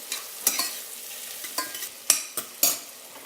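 Shallots and mushrooms sizzle gently in a pan while a utensil scrapes and stirs them in several distinct sweeps over a soft frying hiss, close and clear with no talking.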